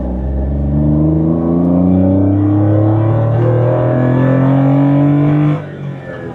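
Honda Beat engine revving hard in busy traffic, a loud steady drone with rising harmonic sweeps as it accelerates through the gears, easing off near the end.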